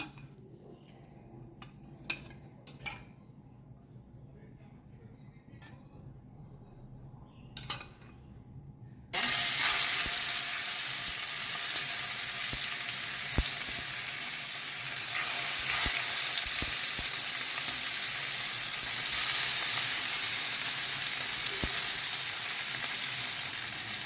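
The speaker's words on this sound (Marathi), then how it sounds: "सो हें न्ही आमकां दोनी सायड न्ही एक बरेंशें ब्रावन कलर जायसर न्ही एका बरें फ्राय करून घेवंक जाय" Pomfret fish frying in hot oil in a pan: quiet clinks and handling at first, then a loud, continuous sizzle that abruptly takes over and holds steady, close up.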